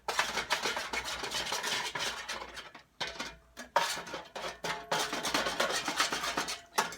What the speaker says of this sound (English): I want to dig up all of those drippings. I'm going to get a spoon to dig some up.